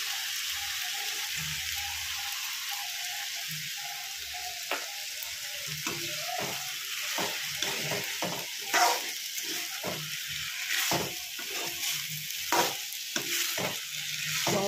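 Spice paste fries in a pan over low heat for a green fig curry, with a steady soft sizzle broken by repeated scraping stirs of a spoon against the pan.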